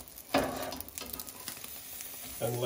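A fluffy blueberry omelet sizzles and fries steadily in a pan, with a brief louder crackle near the start and another near the end as it cooks.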